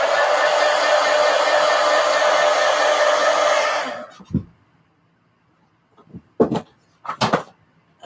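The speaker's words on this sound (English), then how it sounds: "Let me hit it with the heat gun." A heat gun blows a steady, loud rush of hot air for about four seconds, then cuts off, leaving a few scattered soft knocks and handling sounds in near silence.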